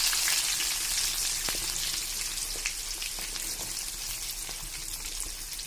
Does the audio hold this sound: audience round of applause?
no